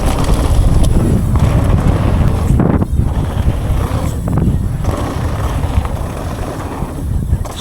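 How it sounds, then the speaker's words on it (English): Strong wind roaring across the microphone at Dyfi Bike Park, a loud, continuous low buffeting rush with surging gusts that never lets up. "Super windy."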